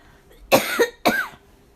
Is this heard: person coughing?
yes